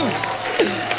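Studio audience applause for a singer as he is welcomed onto a TV comedy show, a steady broadband clapping wash at moderate level with voices mixed in.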